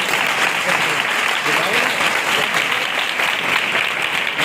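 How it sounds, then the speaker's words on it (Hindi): A church congregation applauds loudly and continuously at a Good Friday service, a dense, even roar of many hands clapping at once with no pauses. "यीशु के जलाल के लिए तालियां बजाएं।"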